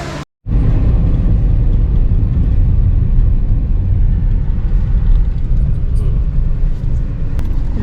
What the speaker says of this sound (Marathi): चला गाडी आली बाहेर